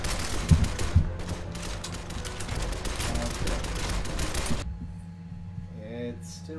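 Rapid gunfire bursts from the PC video game Shadow Complex Remastered, loud and dense for several seconds with a couple of sharper impacts early, then cutting out abruptly into quieter game ambience and faint effects.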